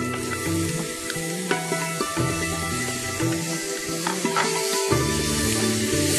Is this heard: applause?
no